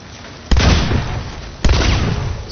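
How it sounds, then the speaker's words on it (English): Two sharp booms from a thrown explosive in the video game Hunt: Showdown, each a sudden loud blast followed by a rumbling decay, spaced about a second apart. "throw that and get in after the explosion"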